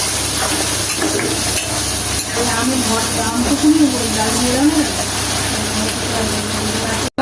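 Torn chilies frying in a pan of ginger-garlic paste for a jackfruit and prawn curry make a continuous loud sizzle beneath a person talking.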